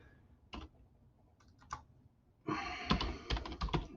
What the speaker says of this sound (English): typing something in real quick.